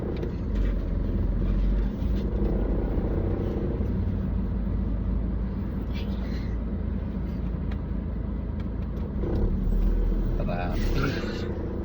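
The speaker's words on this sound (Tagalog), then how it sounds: "Traffic." Road traffic heard from inside a vehicle on the way to a mall: a continuous low rumble of engines and tyres with occasional passing vehicle noise, and voices faintly in the background.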